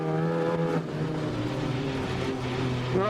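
Race car engine roaring steadily under load as it drives a track course in Australia, loud and close with shifting harmonic pitch throughout.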